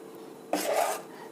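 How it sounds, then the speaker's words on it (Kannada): An oiled idli plate is set down into a steamer pot, making one short metallic clank and scrape, close by in an otherwise quiet kitchen. "ಇಡ್ಲಿ ಬೇಯೋದಕ್ಕೆ ಇಡ್ತಾ ಇದ್ದೀನಿ ಈಗ"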